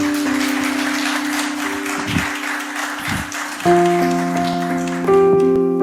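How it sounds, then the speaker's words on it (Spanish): A church congregation claps hands in praise, a dense, steady patter of applause mixed with sustained keyboard or organ chords that swell louder near the end. "¿Cuánto le dan fuerte palmas al Señor?"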